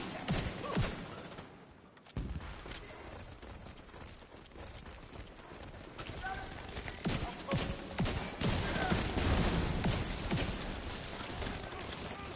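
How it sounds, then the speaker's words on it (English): Rapid bursts of gunfire in The Division 2, the shots aimed at a box, repeating loudly over busy battle noise with talking mixed in. "I'm shooting the fucking box."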